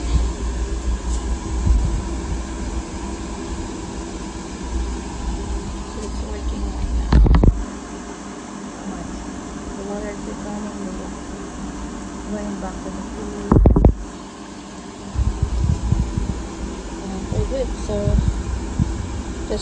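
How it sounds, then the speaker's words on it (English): A pool vacuum running with no skimmer gives a steady, loud mechanical whoosh and hum. Two sharp bursts break it, and voices talk over it in places. "Start the vacuuming."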